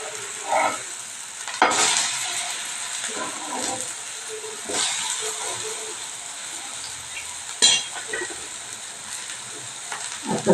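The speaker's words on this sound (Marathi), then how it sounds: "आणि आता हे छोटे भाजायला लागते ते थोडं थोडं पीठ सोडून" Small flatbreads made from grated raw potato and flour roast on a hot pan, giving a steady soft sizzle with occasional sharper crackles and spatula scrapes, and no voices.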